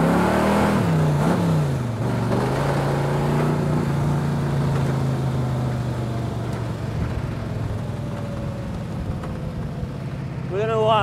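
A 1959 Ol' Yaller Mark III with a big-block Buick engine drives and makes a U-turn, its deep engine drone steady and close throughout, with a voice faintly mixed in.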